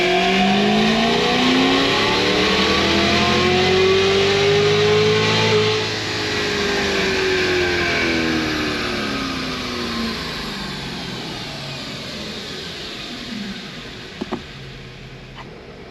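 A Cadillac CTS-V engine revs up in a steady, rising pull during a dyno-style test, its harmonic tones climbing then easing off as it winds down. The engine is loud and close, with no talking.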